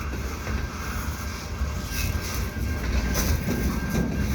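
A short CN transfer train rolls slowly and close past the Des Courcelles Street crossing, its railcars giving a steady rumble with faint wheel clatter throughout and no voices.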